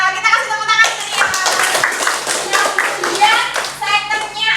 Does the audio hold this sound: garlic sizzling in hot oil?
no